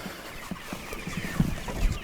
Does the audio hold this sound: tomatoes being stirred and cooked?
no